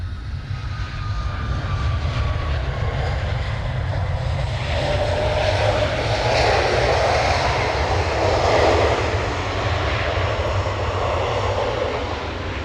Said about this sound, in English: Airlines E190 operating as Qantas 1856.